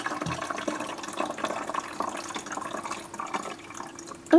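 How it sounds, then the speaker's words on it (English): Water pouring into the tank reservoir of a coffee maker, a continuous splashing trickle close by, ending in a brief higher gurgle as it fills. "We've gotta fill up the tank."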